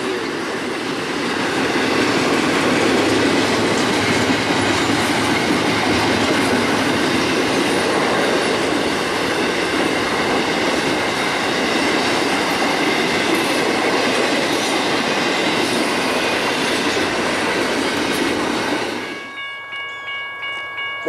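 A westbound freight train rolls past on the Greenwich Subdivision with a loud, steady roar of wheels and wagons that holds for nearly twenty seconds before cutting off abruptly.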